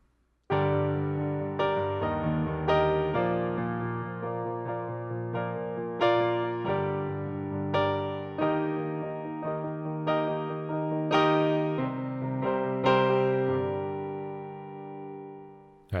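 Acoustic piano performs the first verse of a song in its acoustic arrangement, sustained chords struck in a steady pattern with ringing decay, close and unaccompanied by speech, trailing off at the close.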